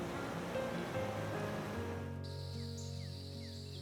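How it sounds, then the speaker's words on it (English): Ocean surf crashes and washes against the massive stone walls of a seaside fort in Sri Lanka, a steady broad roar that thins to a softer wash partway through, with a faint tonal whistle and chirps over it. "The ocean crashes against walls below."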